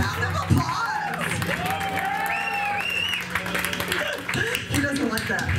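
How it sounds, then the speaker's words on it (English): Audience applause at a comedy show, with cheering and scattered laughter, as a comedian keeps talking over the crowd throughout; steady, moderately loud clapping under the voice. "Give him a round of applause."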